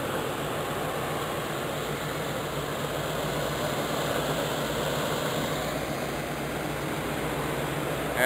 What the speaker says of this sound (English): Buick, actually, the battery was quite low on charge, so it's been idling here for a while.